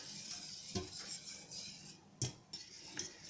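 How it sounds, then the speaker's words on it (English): A lumpy sauce is stirred vigorously in a pan, quietly scraping with a few sharp clinks of the utensil against the metal. "there was a lot of furious stirring while I tried to beat those lumps out of existence"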